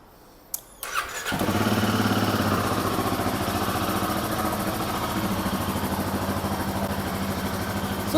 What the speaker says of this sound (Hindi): सो थैंक गॉड बाइक तो स्टार्ट हो गई है